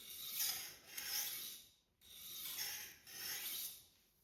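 A Damascus Miyabi kitchen knife is drawn back and forth over a Japanese waterstone, making four soft, rasping strokes that swell and fade in an even rhythm, quiet and close with nothing else heard.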